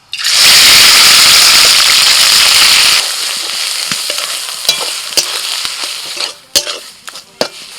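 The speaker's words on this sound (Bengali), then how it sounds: "এবার এই বাটা কপি পাতাটা দিয়ে দিচ্ছি।" Ground cabbage leaf paste hits hot oil tempered with black cumin in a wok, erupting into a loud, dense sizzle for about three seconds, then settling into a quieter crackle with sharp scrapes and clanks of stirring.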